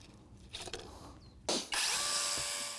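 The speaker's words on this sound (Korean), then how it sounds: "전기톱을 사용하는데도 한계가 있습니다." Electric saw biting into fibrous one-year-old paper mulberry branches, short rough bursts of cutting followed by a loud sustained whine as the blade runs through the stringy wood, close and harsh.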